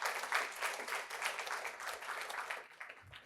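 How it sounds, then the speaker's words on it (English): Conference audience breaks into steady applause for a speaker being introduced, dense clapping that stays loud throughout before tapering off at the end. "Round of applause for Gautam."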